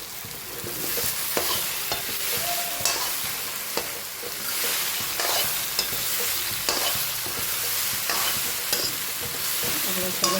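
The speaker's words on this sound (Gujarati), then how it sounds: "ઢોકળા મિક્સ કરી લઈએ." Dhokla batter stirred in a pan over a gas flame, a steady scraping swirl with faint sizzling underneath and occasional sharp clicks of the spoon against the pan, close and continuous.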